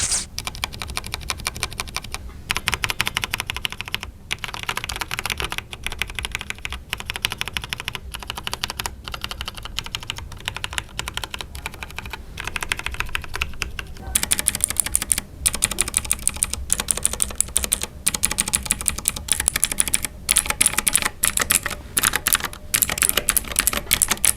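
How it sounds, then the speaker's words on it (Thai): Clicky mechanical keyboard typing on a Nubwo X33 with blue switches, close and continuous, with fast irregular keystrokes that turn sharper and louder partway through. "ไปฟังเสียงคีย์บอร์ดกันเลยดีกว่านะครับระหว่างตัว Red Switch แล้วก็ตัว Blue Switch"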